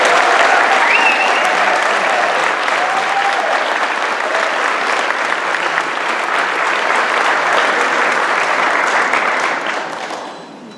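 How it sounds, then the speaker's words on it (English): A graduation audience gives a big round of applause for graduates, with dense, loud clapping held steady for about ten seconds before fading out. "How about a big round of applause for them?"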